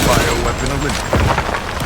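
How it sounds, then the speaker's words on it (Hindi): Loud, dense gunfire from the video game Resident Evil Village: sustained bursts of shots and booming impacts run through the whole stretch, with a voice reacting over the noise. "कितनी गोली मारू भाई, कितनी गोली मारू इसको।"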